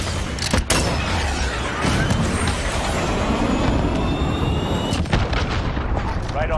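Missile strike in Call of Duty: Modern Warfare on the Euphrates Bridge, loud sustained rumbling roar of battle with sharp blasts near the start and end, voices speaking over it.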